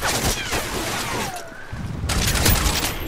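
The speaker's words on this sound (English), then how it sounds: "He got a direct hit with the RPG on me!" An RPG rocket blast in Modern Warfare 3 amid close gunfire: sharp crackling bursts, a short lull, then another loud impact and rumble in a quick, chaotic exchange.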